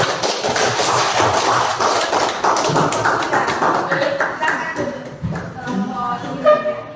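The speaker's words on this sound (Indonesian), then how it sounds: "tepuk tangan untuk kelompok" A school class applauding a student group after its biology presentation, a dense burst of clapping that fades into chatter and scattered taps as voices rise toward the end.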